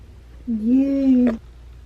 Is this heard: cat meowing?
yes